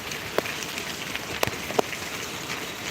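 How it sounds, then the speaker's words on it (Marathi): Heavy monsoon rain in Mumbai falls steadily as a dense, even hiss, with a few sharper drops or splashes standing out close by. "लग एवढा पाऊस आहे"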